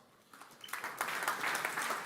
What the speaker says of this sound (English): A round of applause for Return on Art.